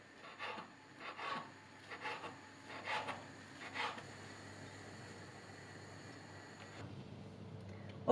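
A kitchen knife slices ingredients into thin strips on a wooden board for Asian-style omelette rice with vegetables: about six rhythmic, close rasping strokes, then a quiet stretch.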